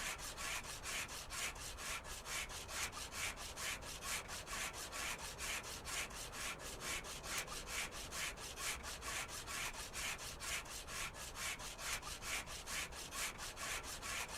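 Steady rhythmic scraping of sandpaper rubbing rust off a car body in a car dealer simulator game, a fast even back-and-forth stroke repeating without pause, close and continuous with no talk.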